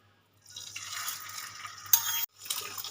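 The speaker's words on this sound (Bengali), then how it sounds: "ডিমটা সুন্দর করে ফেটিয়ে নিয়েছি এবার তেলের মধ্যে দিয়ে দেব" Beaten eggs hit hot oil in a wok and set off a steady close sizzle, broken by a short burst and a sudden stop before the frying noise resumes.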